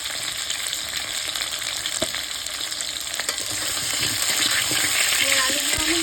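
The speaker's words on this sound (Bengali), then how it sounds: "এবার আমি এই আলুগুলো ভেজে নেব।" Big chunks of potato sizzle steadily in hot oil in a wok, a dense close crackle that grows slightly louder midway, with occasional scraping stirs.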